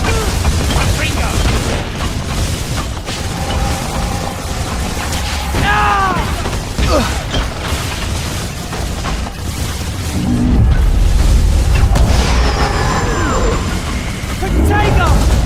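Confringo blasting spells going off in the PS3 Harry Potter and the Deathly Hallows game, booming bursts amid dense in-game noise and clatter, with voices heard shouting over the action.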